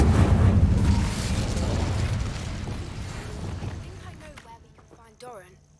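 The Incendio fire spell goes off in the Hogwarts Legacy video game, a loud roaring burst of flame that swells, then fades over several seconds into quieter game sounds with a brief pop near the end.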